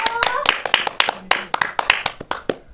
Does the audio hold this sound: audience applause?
yes